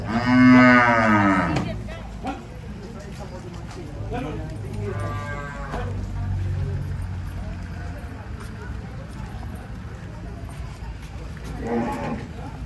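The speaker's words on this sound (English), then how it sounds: "This is the other place where are more of this type of cows who cannot stand up." Cows at a cow shelter and hospital let out loud, close moos, one long call at the start and more lowing later, amid shuffling and background noise.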